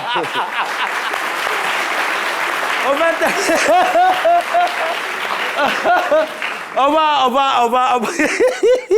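Steady applause from a football crowd for Burkina Faso's team, with cheering and excited voices rising over the clapping toward the end.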